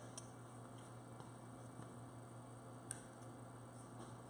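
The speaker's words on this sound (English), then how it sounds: "We do have a dryer running in the background" A faint, steady low hum from a plastic pellet dryer runs throughout, with a few tiny clicks above it, in an otherwise quiet room.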